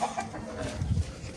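Agitated rooster in a village pet enclosure clucking, angry at another bird; a few low, irregular clucks and grumbles at moderate distance, with faint background noise.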